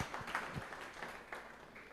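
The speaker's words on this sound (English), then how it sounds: "Let's clap for Associate Professor" Audience applause for an Associate Professor after a presentation during a ministerial visit to Mbarara University of Science and Technology; a fairly quiet, steady wash of clapping with a few sharper claps rising out of it.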